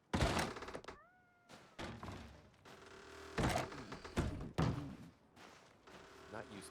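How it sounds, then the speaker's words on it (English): A cat meows in short, close calls with a thump nearby, while people talk over and between the meows. "There's a kitty."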